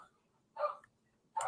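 A dog gives two short, muffled barks about a second apart, faint and somewhat distant, against a quiet background.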